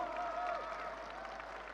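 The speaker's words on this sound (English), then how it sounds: "Big round of applause." An audience section at a large crypto currency event claps and cheers on cue in a big round of applause, a dense, reverberant crowd wash heard from afar in a hall, steady throughout.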